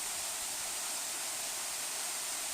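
Selendang Bidadari waterfall in the forest of Pati, Central Java, Indonesia, heard as an even, unbroken rushing hiss of falling water, steady and moderately soft, with no voices.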